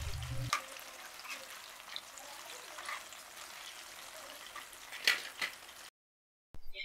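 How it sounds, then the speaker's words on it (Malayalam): Banana fritters (pazham pori) fry in hot oil on a medium flame, giving a steady, soft crackling sizzle with a few louder pops before the sound cuts out near the end. "ഇത് വറുത്തെടുക്കുക."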